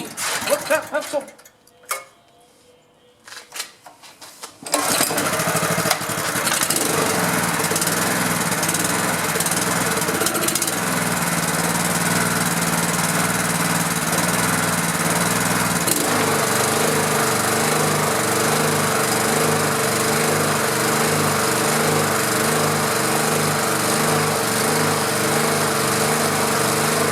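A pressure washer's small engine runs rough and loud after a quiet start, a steady close drone with an uneven knocking, ticking rhythm that carries on without a break.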